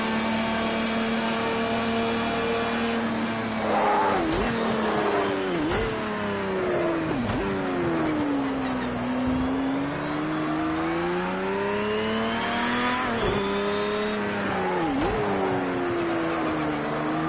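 Race car engines in Project Cars 2, a Ferrari among them, hold a steady loud high-pitched drone, with the pitch rising and then dipping sharply at each gear change and corner.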